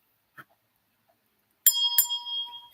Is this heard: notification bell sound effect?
yes